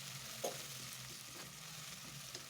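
Crushed garlic sizzles with onions in a soup pot, a faint steady frying hiss with a couple of soft stirring knocks, no voices.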